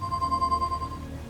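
An electronic phone in the Leisure Suit Larry – Wet Dreams Dry Twice video game gives a steady pulsing ring, a clear tone repeating rapidly for just under a second before fading out.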